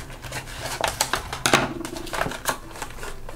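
Scissors or a blade cutting open a blind box toy package for a Best Furry Friends handbag figure, giving a run of close, crisp plastic and cardboard snips and crinkles with no talking.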